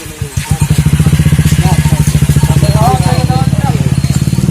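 A motorcycle engine idles nearby with a fast, even thumping beat that holds steady throughout, while someone speaks over it.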